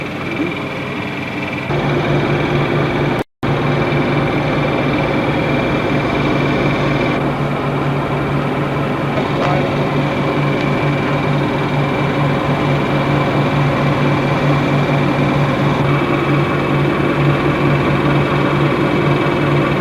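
Aboard a harbor vessel in Port Newark, New York, the boat's engine drones steadily and close by with a low, constant hum. A brief dropout breaks it early on.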